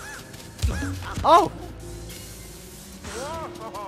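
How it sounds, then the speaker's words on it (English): Crows caw in the video game Luigi's Mansion 3, a few harsh, rising-and-falling calls scattered through the moment, one cluster louder than the rest, while a player's voice exclaims over them. "Oh no, crow, get away from me! Oh, there's lots of them!"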